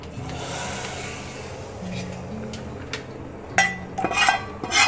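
Hot tempering for kadhi pakoda hisses briefly as it hits a pressure cooker, followed by a spoon clinking and scraping against metal while stirring, with faint background noise.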